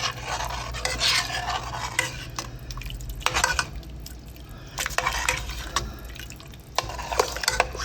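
A spoon stirs spice mix into a pot of homemade soup, with repeated scraping and swishing strokes in bursts over a soft simmering sizzle, close and fairly loud.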